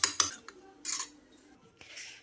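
Three eggs beaten with a utensil in a bowl for egg fried rice: a few quick metallic clinks and whisking scrapes, close and fairly clear, in irregular bursts.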